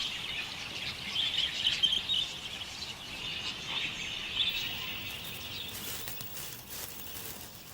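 Budgies keep up a continuous, fairly soft chirping chatter, with a few brighter tweets rising out of the flock noise.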